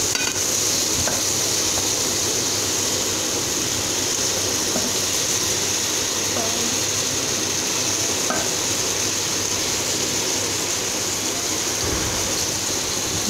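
Chopped tomatoes stirred into frying onions in a pan, a steady loud sizzle and bubbling hiss throughout with faint scraping of the spoon, no voices.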